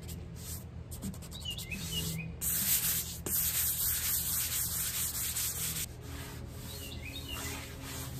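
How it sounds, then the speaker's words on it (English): A wooden bedside table's top coat being lightly sanded by hand: steady, close scratchy rubbing strokes that run continuously, with birds chirping faintly in the background and no talking. "I'm going to lightly sand the top just to get off any little tidbits that might have landed in that top coat."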